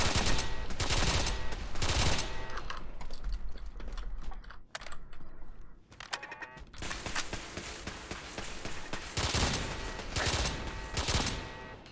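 Rapid bursts of automatic gunfire from security turrets in modded Fallout 4, dense rattling volleys with brief pauses between, loud and continuous with no talking.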